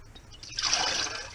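Chicken broth poured and strained through a colander into a lower pan, a steady close liquid splash and trickle that swells after a brief quiet start.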